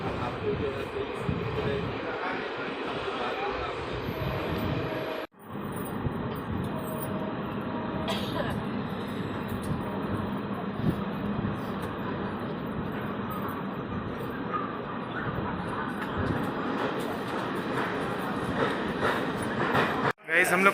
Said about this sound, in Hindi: और अभी हमारी ट्रेन जो है चल रही है